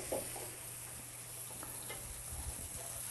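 Fish sizzles steadily in a hot frying pan, a constant close crackle of oil with a few louder spits and light stirring or scraping noises, and no talking.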